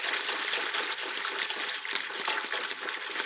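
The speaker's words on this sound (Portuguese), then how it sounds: "Vou pegar aqui um pouquinho de água, vou colocar aqui dentro e vou fazer o teste da espuma com vocês." Water poured into a container for a foam test of homemade laundry soap: a steady, close, splashing gush that runs without a break, with no talking.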